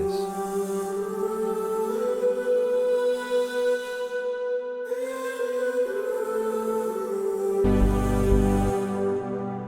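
Soft synth counter melody from an Output Exhale preset, bathed in reverb, with sustained tones shifting slowly over a steady pad and a brief low thump near the end.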